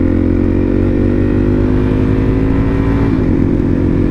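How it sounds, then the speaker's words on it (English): A Harley-Davidson Road King motorcycle rumbles steadily and close, its deep V-twin drone holding for about three seconds before the pitch shifts as it moves past, with no talking. "Nice Harley Road"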